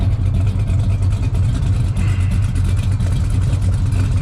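A 1972 Chevelle convertible's engine with a mild performance cam idles close by with a deep, steady rumble and a slightly lumpy, loping rhythm, running continuously without revving.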